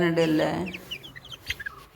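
Chicks and hens of a black-and-white speckled breed cluck in a short burst, a loud close call first and then softer scattered peeps, with a voice present briefly.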